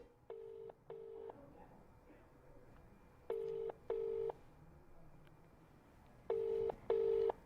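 A telephone ringback tone in three double pulses, two short beeps each, repeating over a faint hissy background.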